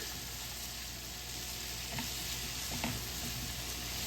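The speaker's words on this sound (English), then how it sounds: "We start with the shrimps." Spicy shrimp frying in a pan with a spoonful of oil, giving a constant close sizzle with a couple of brief utensil scrapes partway through, and no voices.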